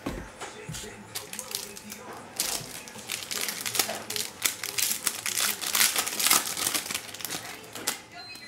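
A pack of 2019 Panini Prizm football cards torn open by hand, a stretch of crinkling, ripping foil wrapper noise with sharp crackles, close and fairly loud, alone without speech.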